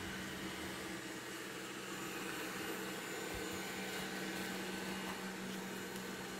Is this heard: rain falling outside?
no